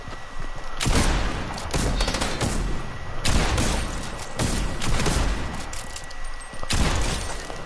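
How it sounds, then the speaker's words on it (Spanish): Shotgun blasts in an arena match of a shooter video game: several loud, sharp booming bursts spaced a second or two apart, each trailing off over a steady background of game noise. "ese escopetazo se lo llevó de a gratis"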